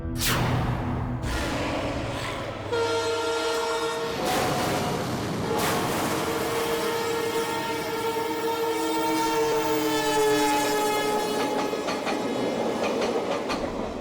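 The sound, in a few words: train at a railway station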